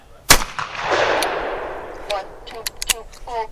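Shotgun rounds fired over a chronograph outdoors: one loud, sharp blast with a long decaying boom, followed by faint voices talking in the background.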